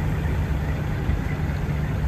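A 2022 Kubota L4701 four-wheel-drive HST tractor with 88 hours idles close by, a steady low diesel rumble with an even, unchanging throb.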